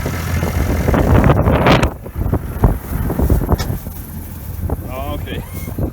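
Wind gusting across a hayfield during baling of first-cut grass hay, heavy blustery rumble and microphone buffeting, with someone talking over it and brief sharp clatters.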